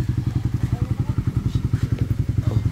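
A motorcycle engine idles close by with a fast, steady, throbbing putter that holds at an even level throughout.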